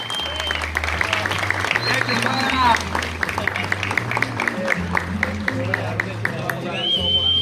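Audience applause at a school graduation ceremony, brisk sharp clapping from a hall full of people over a low pulsing musical backing, with scattered voices in the crowd.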